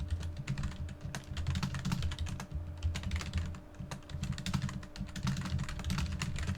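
Rapid, steady typing on a computer keyboard during a gaming match, close and busy with dense overlapping keystrokes alongside a low background hum, no voices.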